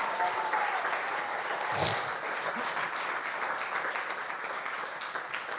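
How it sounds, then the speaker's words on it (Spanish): Congregation clapping during a church service, a moderate, dense patter of many hands that holds steady for several seconds, somewhat distant and reverberant, with a brief low thump partway through. "Regale una ofrenda de aplauso al Rey de Reyes, si es para Él, con más fuerza"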